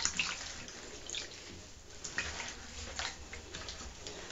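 Water runs and splashes in a basin while a front lace wig is washed with shampoo, a steady hiss broken by irregular drips and sloshes close by.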